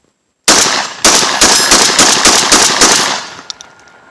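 A Mossberg 930 SPX semi-automatic shotgun fires Winchester Universal shells in a rapid string of loud, close blasts, each sharp report running into the next with little pause.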